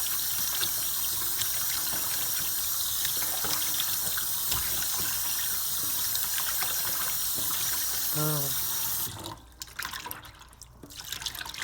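Tap water runs steadily into a sink, rinsing pork chitterlings, with a constant hiss and splashing, then stops near the end, leaving quieter drips and faint handling sounds.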